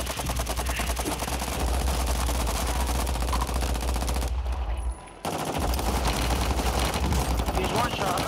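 Sustained rapid machine-gun fire rattles through a video game shootout and breaks off once in a brief pause before resuming, loud and close, with a player's voice talking underneath.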